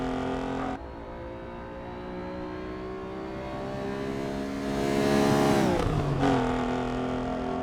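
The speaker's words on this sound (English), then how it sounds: "That is just such an obvious V12." A high-revving V12 engine of a classic supercar in the racing game Assetto Corsa EVO roars steadily, pitch climbing and swelling louder before dropping sharply as it shifts, with a rich layered harmonic tone.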